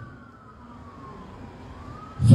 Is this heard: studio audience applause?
no